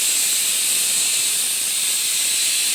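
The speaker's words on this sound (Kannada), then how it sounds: "ನೋಡಿ ಅದು 2 ವಿಜಲ್ ಬಂತು." A pressure cooker on the stove hisses out steam through its whistle while cooking ragi mudde, a steady, loud, high hiss that holds unbroken from start to finish.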